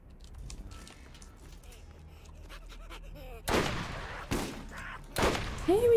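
Gunfire in Borderlands GOTY Enhanced playing as Lilith, several sharp sudden bursts in the second half after a quieter stretch of small game noises, fairly loud and close.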